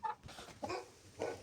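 Adler silver chickens and a young rooster clucking in short bursts at a backyard coop, three or four close, moderately loud calls with brief pauses between them.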